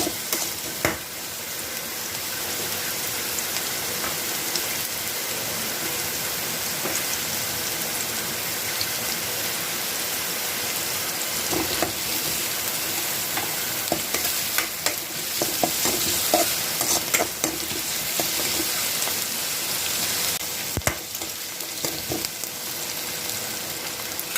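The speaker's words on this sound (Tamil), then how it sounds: "இது நல்லா வதங்கட்டும்." Onions sautéing in a pan for vegetable pasta, a loud continuous sizzle with occasional scrapes and clinks of a spoon stirring through it, steady throughout and free of talk.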